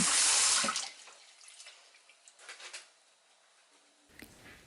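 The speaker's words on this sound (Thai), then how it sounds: "มาล้างในน้ำเย็นค่ะ" Blanched chrysanthemum flowers are rinsed in cold water. A tap gushes loudly at first, then gives way to softer intermittent splashing and dripping as the flowers are handled, with a brief renewed splash at the end.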